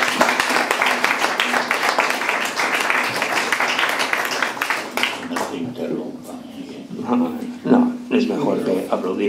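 An audience applauds at the end of a poetry reading, with steady dense clapping that fades out midway, after which scattered voices and murmuring continue in the room.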